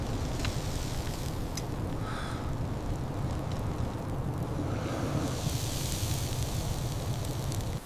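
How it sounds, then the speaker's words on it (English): Steady sizzling hiss of a patty searing on a hot grill, close and continuous, with faint crackles and no talking. "Listen to that sizzle."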